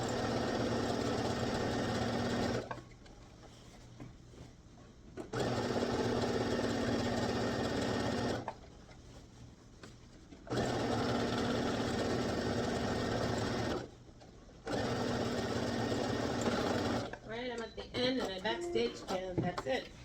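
A sewing machine stitching Ankara fabric for a gathered skirt runs in three long loud bursts separated by short pauses, followed at the end by someone talking.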